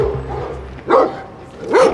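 Large, menacing fighting dogs kept by an illegal gang in Britain give two loud, close barks about a second apart over a low background rumble.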